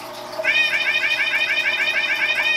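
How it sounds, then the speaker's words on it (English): A cat meows in a long, continuous run of rapid, warbling, rhythmic calls that sound almost like rapping. The calls are close, loud and steady, after a brief quiet start, with no talk over them. "When did Basil become a rapping cat?"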